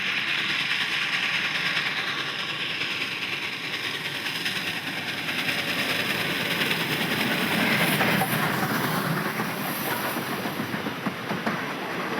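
A coal-fired Garratt steam locomotive hauls its train on a South African main line, giving a steady, loud rolling roar with rhythmic wheel clatter and hiss that holds throughout with no voices.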